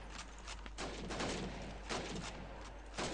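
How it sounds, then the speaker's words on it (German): Gunshots fired at bottles in the video game Call of Duty 2, several fairly faint sharp reports at irregular intervals over a steady low background, with no speech. "Schießen Sie auf die Flaschen und Deren"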